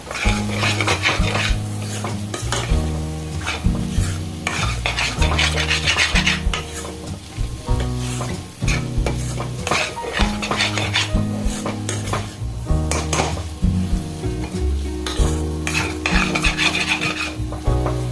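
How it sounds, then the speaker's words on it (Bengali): Street-style ghugni spices with dry mango powder are stir-fried together in a pan, with a utensil scraping and clattering against the metal in a steady, busy rhythm over an ongoing sizzle. "এবার সব একসাথে ভালো করে কষিয়ে নেবো আবার"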